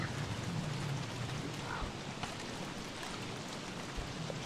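Steady rain in the video game Don't Starve Together, a dense continuous hiss of drops with a low rumble beneath, evenly loud throughout with no voices.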